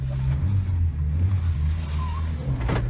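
A 1991 Subaru Sambar 4WD Japanese mini truck, heard from inside the cab with its engine mounted at the rear, hums low and steady as it pulls away, rising slightly near the end.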